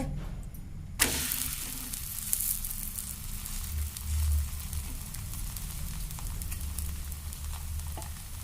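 Thalipeeth patty made from leftover rice sizzling in a little oil on a hot pan, a steady close crackling fry with a sharp tap near the start and low clatter underneath.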